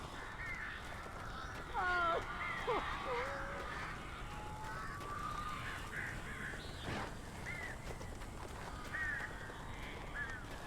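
Crows caw repeatedly in the Alan Wake video game, harsh calls scattered at irregular intervals over a steady low ambient hum, moderately close with no talking.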